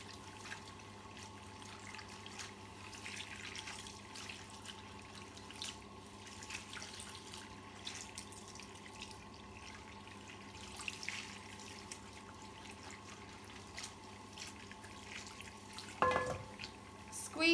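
Tap water runs steadily in a salon sink while hair colour is rinsed out, a faint continuous splashing with a few brief clatters near the end.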